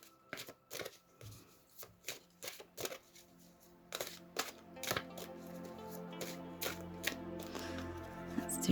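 Large oracle cards are shuffled by hand, a string of crisp, irregular riffling slaps and flutters, close and fairly quiet, with no talking.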